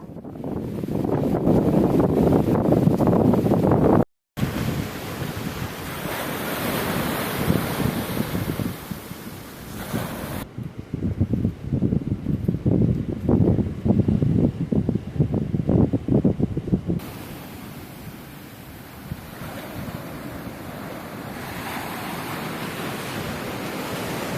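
Heavy ocean waves pound the shore near Kaup lighthouse during Cyclone Tauktae, a loud continuous roar of surf with strong wind buffeting the microphone, broken by a brief cut and a few quieter stretches.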